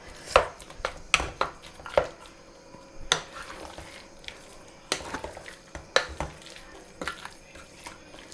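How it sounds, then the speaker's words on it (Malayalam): A spoon stirs and pounds tapioca and chicken in a pot, giving irregular sharp clacks against the metal with soft scraping between. "കപ്പയും നമുക്കൊന്ന് കുത്തി ഇളക്കണം"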